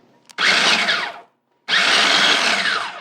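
Food processor pulsing chilled unsalted butter, flour and sugar, two loud whirring bursts about a second long separated by a brief pause, close and alone.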